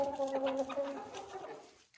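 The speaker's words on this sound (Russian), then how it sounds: "Вот такой вот воспитанный культурный петушок." A rooster in a backyard poultry coop clucks in a short run of low, throaty calls, close and alone, trailing off into quiet.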